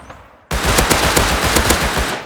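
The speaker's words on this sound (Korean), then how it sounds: "야 폭발탄 폭발탄 어 들린다" Rapid automatic fire from explosive rounds in the survival game Rust erupts after a brief quiet moment, a loud, dense stream of bursts with sharp repeated cracks, close and continuous.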